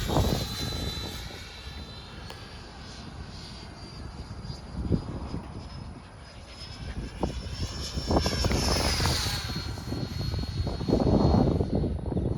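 A radio-controlled model airplane fitted with a new gyro flies over a new field in strong, gusty wind, its thin engine whine drifting steadily in the distance against constant wind rumble and growing louder toward the end.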